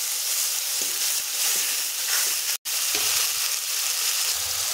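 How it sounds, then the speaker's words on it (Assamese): Spinach hits hot oil in a pan and sizzles loudly and steadily, a bright continuous frying hiss with a brief cut near the middle and faint stirring clicks underneath. "তেলটো যিহেতু গৰম হ'ল এতিয়া মই এনেদৰে পালেংখিনি ইয়াতে দি দিম"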